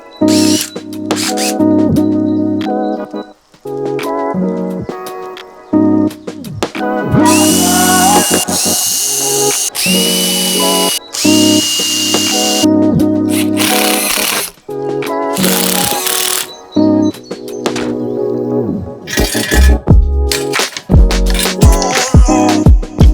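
A power drill whines loudly in repeated bursts as it bites into metal, with brief pauses between runs and a grinding, high-pitched edge.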